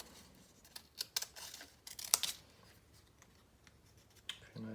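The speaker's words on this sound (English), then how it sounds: "I can go back into that and cut some more" Scissors cut shapes out of paper in a series of close, crisp snips and rustles, irregularly spaced with quiet gaps between cuts.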